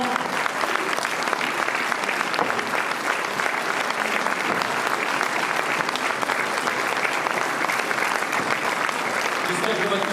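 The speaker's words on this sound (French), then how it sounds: "je voudrais que vous les applaudissiez" A large audience at a New Year's greetings ceremony applauds continuously, a dense, steady wash of clapping that fills the room for about ten seconds, with a voice briefly audible beneath it.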